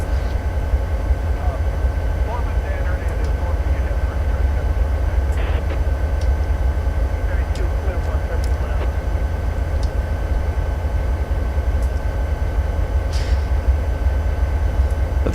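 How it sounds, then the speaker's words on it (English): A very long freight train rolls past in Train Simulator, a steady dense rumble with constant rail clatter and faint higher tones holding evenly throughout, loud and close with no letup. "this is a very long train,"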